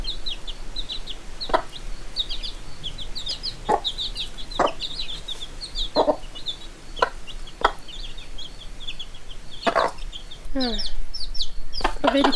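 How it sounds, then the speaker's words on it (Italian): Newly hatched black chicks of the Cemani breed peeping steadily in high, rapid chirps while hens cluck nearby on a farm, with occasional sharper calls, close and continuous. "quindi abbiamo 2 pulcini neri."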